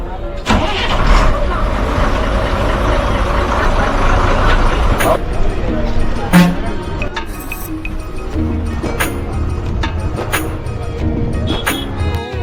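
A bus pulls away from the bus stand in Ooty with its engine rumbling and rising close by, and voices talk over the steady motor noise throughout.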